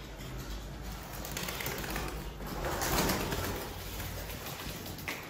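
Tumbler pigeons cooing in a clean, whitewashed coop, soft low coos rising and falling over faint background noise, fairly quiet and close.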